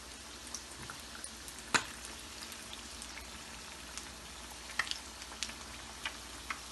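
Egg pakoras fry in hot oil, a soft continuous sizzle with scattered crackles and pops, steady and fairly quiet without any talk.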